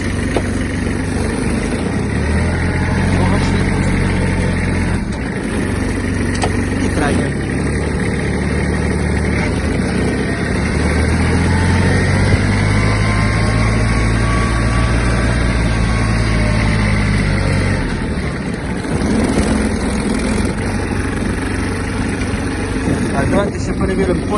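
A Kubota GB-15 Japanese mini tractor's engine runs in high first gear, a loud steady low rumble that rises and eases as it moves off, with someone talking over it.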